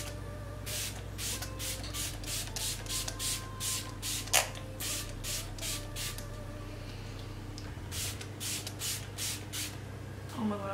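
Makeup setting spray misted onto a face in a series of short, close hissing bursts, roughly a dozen quick spritzes in steady rhythm over a low room hum.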